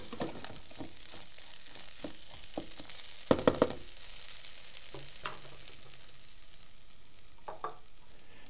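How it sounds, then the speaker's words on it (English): Sizzling ghee and seasoning coat grains as a spatula stirs them in a pot, steady frying hiss with irregular scraping strokes and a few sharp clinks of the spatula against the pan, close up, no talking. "mix that all up with the spatula, making sure that I coat the grains with the ghee and seasoning mixture."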